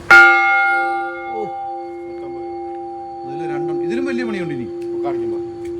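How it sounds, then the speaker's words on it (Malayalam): A large 150 kg cast brass bell at a Mannar handicraft workshop is struck once, loud and close, leaving a long, steady metallic hum that keeps ringing while someone talks over it. "വലിയ രണ്ട് മണി ഇരിക്കുന്നുണ്ടോ അയ്യോ നൂറ്റി അൻപത് കിലോ ഇതാണ് സൗണ്ട് കേട്ടോ"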